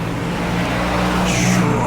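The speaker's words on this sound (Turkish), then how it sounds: "şu araba geçsin arkadaşlar" A car passes by on a street in the town of Borjomi, a steady road rumble swelling slightly toward the end, with traffic noise and faint voices in the background.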